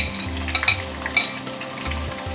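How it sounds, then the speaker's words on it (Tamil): Garlic dropped into hot oil in a home kitchen while making fish 65 fry, giving a steady close sizzle and crackle with brief stirring clatters, no talking. "எண்ணெய் நல்லா காஞ்சிருச்சு. பூண்டை போட்டுக்கிறேன்."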